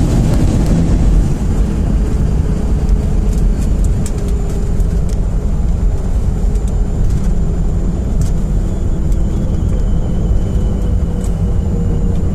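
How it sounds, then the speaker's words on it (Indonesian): A steady, heavy low rumble of jet engines on reverse thrust during landing, heard from inside a passenger airliner cabin, constant and loud throughout, with faint rattling on top. "Flaps full dan reverb, hal itu yang dilakukan oleh pilot saat roda pesawat mulai menyentuh landasan"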